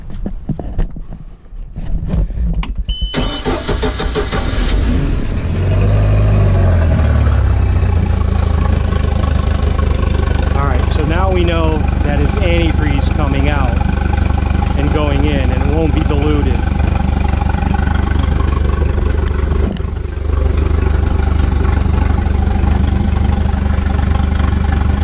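Mercruiser MPI 3.0 boat engine cranking, catching and then running at a steady idle during winterizing with antifreeze, loud and close, with a person talking over the running engine.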